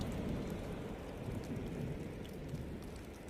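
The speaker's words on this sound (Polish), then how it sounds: "deszczyk pada, kropi" Light rain falls steadily and close by during a camper trip on Sardinia, Italy, an even patter with no talk over it.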